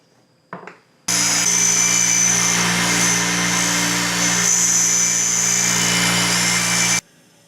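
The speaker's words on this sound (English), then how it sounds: "put this in the grinder and actually reduce" A grinder cuts a metal ring off a knife handle with a loud, steady whine lasting about six seconds. It starts abruptly after a brief clunk and stops just as abruptly.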